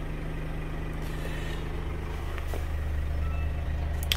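A Scania truck engine idles steadily after an SCR replacement, a continuous low rumble with a constant hum close by, running alone without talk for the whole stretch.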